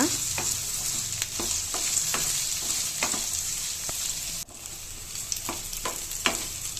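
Onion, ginger, green chilies and garlic fry in a pan with a steady loud sizzle, while a utensil scrapes and taps the pan in an irregular rhythm.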